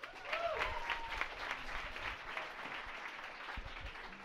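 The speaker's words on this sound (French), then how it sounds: "je pense qu'on peut leur donner une bonne main d'applaudissement aussi" A crowd applauds steadily at moderate volume, a warm wash of clapping that carries on evenly before thinning slightly toward the end.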